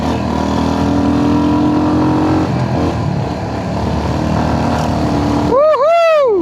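A motorcycle ridden fast on a road trip to Tindharey waterfall, its engine droning steadily and loudly throughout with heavy wind rush, and a short burst of voice near the end.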